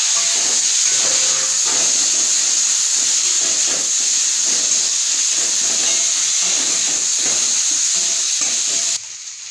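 Boiled, salted potatoes hit hot frying spices in a pan, giving a loud, steady sizzle and hiss that holds throughout, with faint stirring under it and a drop in level near the end.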